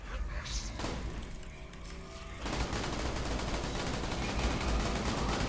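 Rapid sustained gunfire from a gun being emptied in Borderlands: The Pre-Sequel, a dense continuous barrage that grows louder and harsher after the first couple of seconds, with a voice talking faintly underneath.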